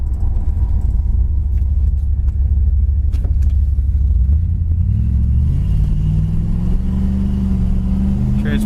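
A 1970 Plymouth Satellite with a 318 engine kicks down and accelerates, its loud engine rumble building and rising steadily in pitch over several seconds.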